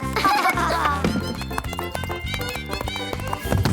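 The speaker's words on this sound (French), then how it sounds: "Au galop!" A cartoon horse gallops in a fast, steady rhythm of hoofbeats, loud and close, with lively music and effects layered over the pounding clip-clop.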